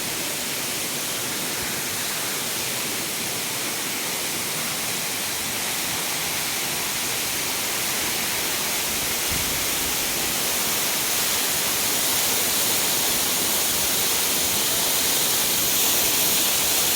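Laay Falls waterfall roaring as a steady, dense rush of broadband noise, constant and unbroken throughout with no voices.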